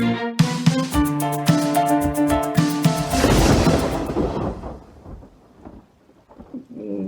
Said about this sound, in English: No, it's just thunder.